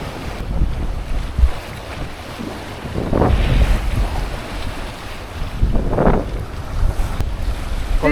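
Sailing yacht underway in perfect Mediterranean conditions off Kefalonia, with steady wind buffeting the microphone and water rushing along the hull, swelling in two louder surges; no voices.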